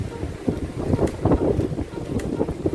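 At a seashore at low tide, a strong southwest monsoon wind buffets the microphone as waves churn, making a continuous rough, gusty roar. A faint voice is heard now and then.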